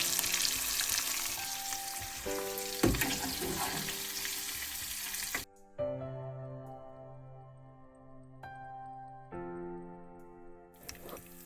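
Prawns fry in hot oil in a pan, a steady loud sizzle for about five seconds that drops away, followed by quieter crackling with light utensil clinks, then the sizzle surges back at the end.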